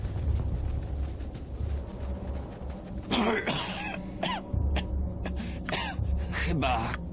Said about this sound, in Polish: Chyba kaszle krwią.